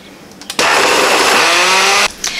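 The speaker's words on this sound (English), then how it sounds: "we're just going to put it in our blender" A countertop blender starts abruptly and whirs loudly at a steady high pitch as it processes chili into homemade enchilada sauce, running for about a second and a half before cutting off, close and sustained.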